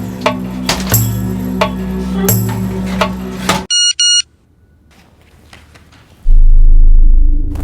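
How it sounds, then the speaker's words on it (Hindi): A cell phone ringing with an incoming call, heard as a short pair of electronic beeping tones between stretches of dramatic music and a low droning score. "आरती, मुंबई के ही किसी पीसीओ से कॉल है, यासीन के सेल पर बज रहा है।"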